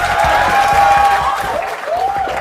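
A talk-show studio audience claps loudly and steadily to welcome a guest, a dense, continuous burst of applause with a sustained tone running underneath.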